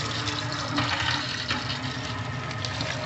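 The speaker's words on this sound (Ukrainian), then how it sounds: "Ось, відкриваємо це. Холодна вода зараз." Cold water running from a kitchen tap through a lit tap attachment, a steady splashing rush that holds fairly even and close, ending with a brief click.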